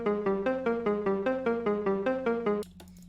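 MIDI melody played on a Georgie Horizon synth key in Ableton Live, a bright steady run of repeated plucked notes that stops abruptly near the end, leaving a faint tail.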